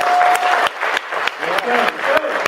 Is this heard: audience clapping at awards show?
yes